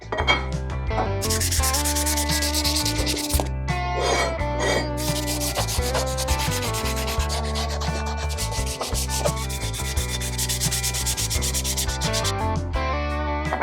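Sanding an old aluminum Harley motorcycle top end with 220 grit on an air tool: a steady, loud, continuous abrasive whirring rub with a droning motor hum, running unbroken throughout.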